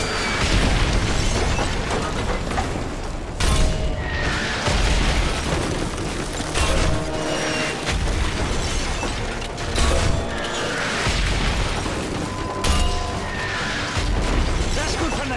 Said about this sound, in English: Keep firing a mortar!